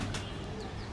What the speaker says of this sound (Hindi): ये देख ले, नीचे कबूतर है